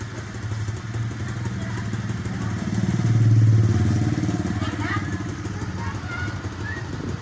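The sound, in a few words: TVS King auto-rickshaw engine switched on and off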